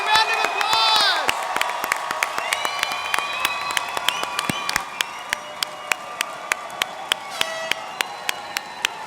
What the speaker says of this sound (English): Let's give our newest graduates a round of applause.